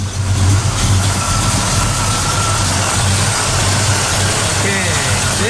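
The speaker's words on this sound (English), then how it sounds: "Now you can see from that clip that the engine's only producing maybe 9 inches of vacuum" A Chevrolet Camaro Z28 V8 idles with low manifold vacuum, giving a steady, close, mid-pitched engine drone that holds unbroken throughout.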